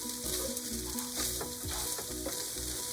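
Ground meat, garlic, ginger and onion sauté together in a hot pan, a close, continuous sizzle broken by rhythmic stirring and scraping, with a faint steady tone beneath.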